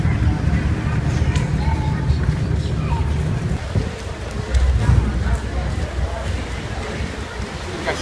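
Rain sweeping in over a beach on Phi Phi Island, a dense, steady hiss of falling water with low rumbling gusts underneath, loud and close throughout.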